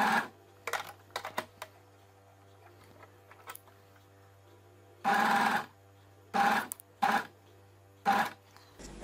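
An overlock machine stitches a T-shirt seam in short loud bursts, each lasting a second or less, separated by quiet pauses filled with faint handling clicks and a steady low hum.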